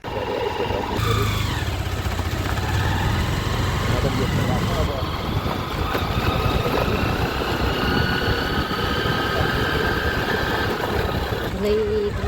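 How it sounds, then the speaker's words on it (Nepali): A motor engine chugs steadily like a tractor moving along, a continuous rough drone with shifting pitch over the whole stretch, while a voice talks over it. "ट्र्याक्टर हिँड्ने जस्तो यार"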